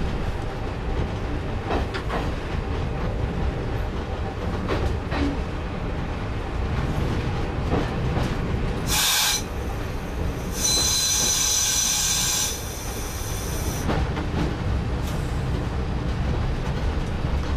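A train arriving at Rawtenstall Station in a train simulator, steady rolling rumble of wheels on rails with a sharp high wheel squeal in the middle as it slows along the platform.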